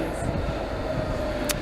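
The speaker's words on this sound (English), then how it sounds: "So here we are at Royal Victoria DLR station. There is a train to Beckton. It's one of the older trains." An older DLR train at Royal Victoria station in London produces a steady, loud low rumble and hum of running rail equipment throughout, with a brief hiss near the end.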